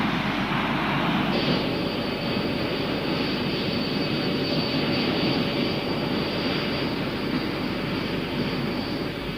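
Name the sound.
RB199 jet fighter engines in a flight video game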